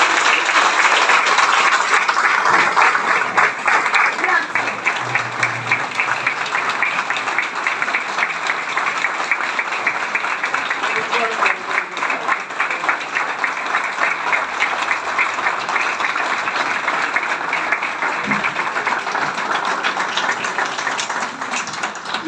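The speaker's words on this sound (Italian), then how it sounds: "Applausi." A crowd at an Italian political rally claps in long, steady applause that stays dense and loud throughout.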